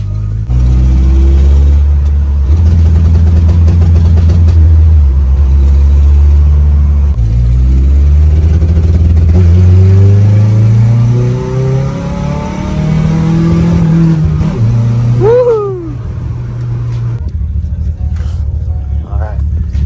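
Toyota 22RE engine revving hard against a 2-step launch limiter, a loud, sustained, rising and falling drone close by for most of the stretch, with people talking over it.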